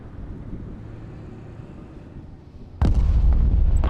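In the Broken Arrow war game, a steady low rumble gives way to a sudden, loud, booming artillery blast near the end, which stays loud and heavy to the close of the clip.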